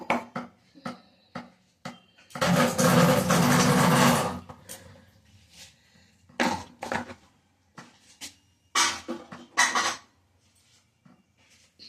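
Three eggs whipped in the jar of an electric mixer grinder for a fruit cake batter: one loud whirring burst of about two seconds, with short clatters and knocks from handling the jar before and after.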